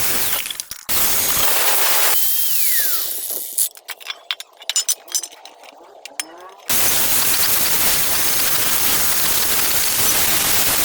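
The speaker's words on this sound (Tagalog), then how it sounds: "Gagamit po ako ng angle grinder." An angle grinder cutting an old, thick cooking pot in half, producing a loud, harsh, steady roar that drops away briefly to scattered clinks and scrapes, then surges back and runs on continuously.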